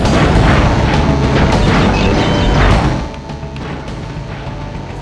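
A loud, rumbling bomb blast from Crash Team Racing kart play: a heavy, sustained boom that fills the first three seconds, then drops to a lower roar that trails on to the end.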